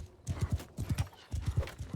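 Horse hooves clip-clop in a quick galloping rhythm in a Bannerlord battle, three short bursts of hoofbeats with a faint whinny, fairly close and without talk.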